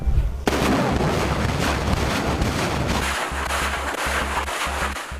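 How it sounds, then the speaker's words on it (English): A GRAD multiple rocket launcher, a 1960s system firing up to 40 unguided rockets, lets loose a roaring barrage: a sharp onset followed by a dense, sustained rushing blast with rapid pulsing low thumps, loud and harsh throughout. "This rocket system, called GRAD, was first developed in the 1960s. It fires 40 rockets up to 25 miles."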